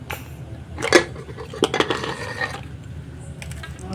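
A lid clanks off a pot of mutton curry: two or three sharp metallic knocks and scrapes close by, then a soft simmering hiss, with no talking.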